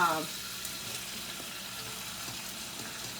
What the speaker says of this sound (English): I'm frying these potatoes in oil